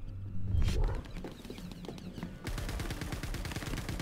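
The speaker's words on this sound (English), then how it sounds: "That shotgun is quite deadly at short range." Star Citizen Star Marine shotgun fire in multiplayer combat, sharp booming blasts followed by rapid repeated gunfire in the background, loud and close.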